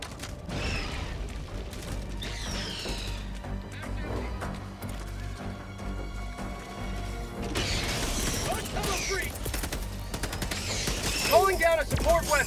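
A gun in a co-op multiplayer video game is reloaded with a new magazine, with mechanical clicks and ratcheting clatter over continuous game noise, bursts of gunfire and rattling crashes.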